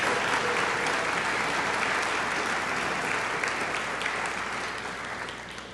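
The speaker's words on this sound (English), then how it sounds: "Can we have some applause for all of them now?" Steady applause from a community awards audience honoring Rotary and Kiwanis club volunteers, dense sustained clapping with no talk, tapering slightly toward the end.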